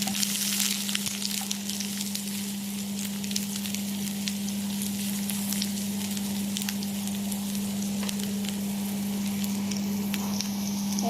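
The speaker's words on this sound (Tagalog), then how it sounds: "So igigisa ko lang siya sa olive oil at saka ko ilalagay lahat ng mga ito" Onion sizzles in hot olive oil in a pan, a steady, loud frying crackle that holds evenly throughout with a low constant hum underneath and no talking.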